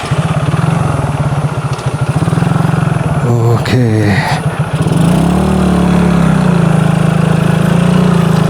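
A loaded motorcycle engine chugs loudly and close as the bike is ridden downhill toward a motocamping spot, its rumble shifting in pitch midway while a voice speaks briefly over it.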